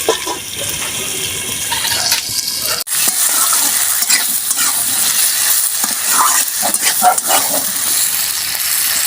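Tomatoes fry in a pan for a tengra fish dish with five-spice tempering, a steady close sizzle with stirring scrapes and a brief dip near the middle.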